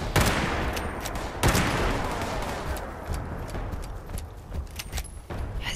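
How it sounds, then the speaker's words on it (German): Gunfire in the video game Fallout 76, with a few sharp shots breaking out over a rough, noisy game soundscape and no talk over it. "ich höre hier Schüsse und Supermutanten"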